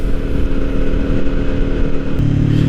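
A Kawasaki Ninja 400 motorcycle engine drones loud and steady from close range, a dense low rumble holding a constant pitch with a slight shift near the end, and no voices.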